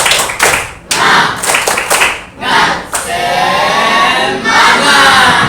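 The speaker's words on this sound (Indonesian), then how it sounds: "Kita buat tepuk semangat dulu, ya." Schoolchildren in a classroom perform a rhythmic spirit clap, loud sharp bursts of unison claps in patterned groups, then a sustained shout and cheer from the whole group, close and energetic.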